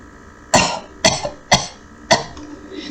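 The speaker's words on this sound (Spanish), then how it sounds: "el hombre en la cama comenzaba a toser violentamente" A man lying in bed coughs violently, four harsh, separate bursts spaced about half a second apart, close and loud with no talking in between.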